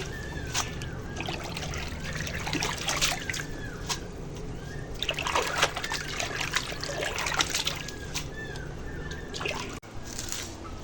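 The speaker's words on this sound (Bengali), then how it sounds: "এবার এই পাট পাতা ধুয়ে তুলে নিচ্ছি" Jute leaves being rinsed in water in a kitchen, with steady trickling, splashing and dribbling as the leaves are lifted, close and continuous at moderate level.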